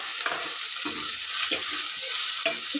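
Green chilies fry in a pan for cabbage manchurian, a constant bright sizzle broken by four or five sharp scraping stirs of the spoon, close up and with no talking.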